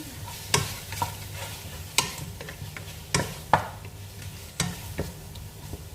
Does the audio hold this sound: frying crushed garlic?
yes